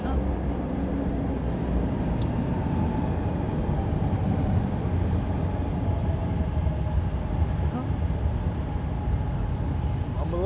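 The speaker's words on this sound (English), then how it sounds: "train loud" A train rumbles loudly past on an urban line, a continuous heavy low roar with rattling wheels that dominates throughout, while people talk underneath.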